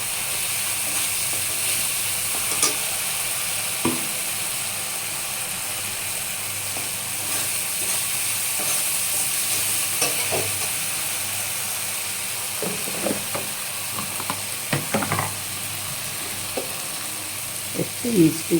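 Soybean chunks and potatoes frying in hot oil in a home kitchen, with a steady sizzle and hiss and occasional scraping clicks of a spatula stirring, while someone talks throughout.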